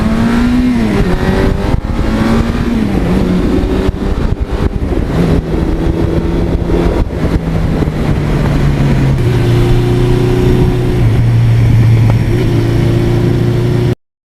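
Unmodified 1982 Suzuki GS1100E with 80,000 miles and a stock-like 86 exhaust with mufflers on both sides, loud engine revving up and down through gear changes, riding close and steady throughout.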